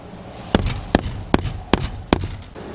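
Five sharp knocks on a rotten wooden boat hull, tapped to check for rot, spaced evenly about every 0.4 seconds, close and fairly loud, each a short thud with no talking.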